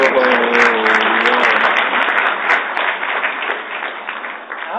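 A keynote audience applauds a live demo of the Lytro light-field camera, steady dense clapping filling the hall for the whole stretch, with a voice briefly heard at the start.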